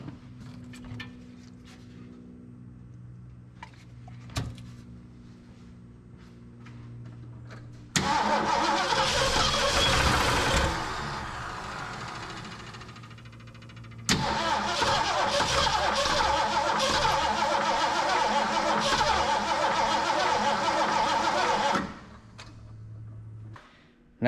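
An old carbureted car engine fed stale gasoline cranks briefly, catches and runs roughly for several seconds, dies, then is cranked again and runs for about eight seconds before cutting out; loud and close.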